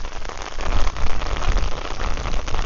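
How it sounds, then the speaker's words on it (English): Steady heavy rain falls throughout a morning walk at Bangwad Reservoir in Phuket, Thailand: a dense, loud, continuous patter close by with no talking. "we'll be enjoying this in the rain a little bit"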